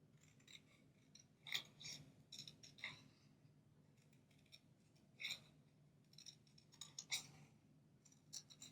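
Quiet, crisp snips of Cutter V scissors cutting paper for card-making come in irregular clusters against soft background hiss, close and delicate.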